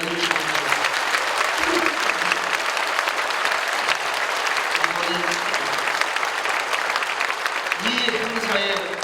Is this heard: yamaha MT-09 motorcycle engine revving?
no